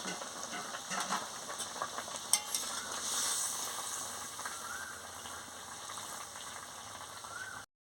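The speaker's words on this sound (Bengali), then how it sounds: "এবার আমি ঢেঁড়সটাকে দিয়ে দিচ্ছি, দিয়ে ভালো করে ফুটিয়ে নিচ্ছি" Okra simmers in a pot of water for a poppy-seed okra curry, a quiet bubbling hiss with a few light knocks of stirring early on, close and steady until it cuts off.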